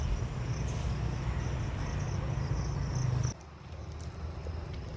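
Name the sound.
honey bees flying around a hive being removed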